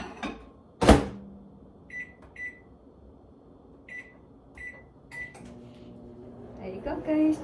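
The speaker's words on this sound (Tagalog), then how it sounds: "So I'm just gonna microwave in the microwave for just a minute." A microwave oven warming eggs and banana for breakfast: a door thud, a few short keypad beeps, then a low running hum starts and builds near the end.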